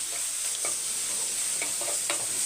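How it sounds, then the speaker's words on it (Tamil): Tomatoes sautéing in a pan for a masala, an even sizzle broken by a few distinct stirring scrapes, close and clear. "இப்போ தக்காளி வதங்கட்டும்"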